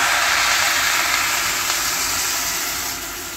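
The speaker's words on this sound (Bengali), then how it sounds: "এটা এবার এরমভাবে দিয়ে জলটা দিয়ে দিচ্ছি" Water is poured into a cooking pot for rice, a steady, close, continuous rushing splash that fills the whole stretch and eases off slightly near the end, with no talk over it.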